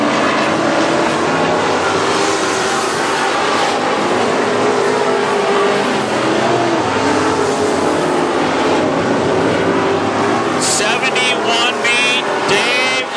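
WISSOTA Midwest Modified race cars roar around the Princeton Speedway track in a loud, continuous engine drone that swells as the pack passes. Brief higher engine whines near the end, and an announcer's voice runs underneath.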